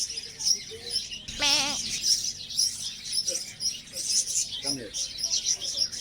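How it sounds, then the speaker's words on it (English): Small birds chirp and tweet continuously in the background, while a person speaks briefly nearby. "As soon as you enter, you're gonna see a lot of birds."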